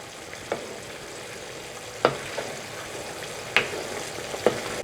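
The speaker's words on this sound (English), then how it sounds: "The mixture's come to a boil. Now cook it for about a minute or so" Mapo tofu sauce boils and thickens in a pan, a steady sizzling bubble broken by a few sharp pops and stirring clicks, close and alone.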